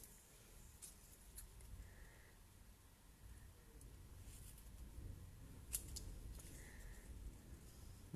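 Quiet scissor snips, a few brief crisp cuts spaced apart over a low steady background hum.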